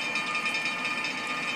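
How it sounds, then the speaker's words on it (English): A tram in a video game runs fast, giving a steady, continuous rumble with a sustained hissing whine on top and no breaks. "That's kind of fast for a tram."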